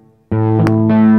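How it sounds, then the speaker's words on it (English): An electric guitar chord rings out, loud and sustained, through the distortion effect of a Yamaha keyboard's DSP used as a guitar amp, with a brief quiet lead-in before the chord. "you get distortion."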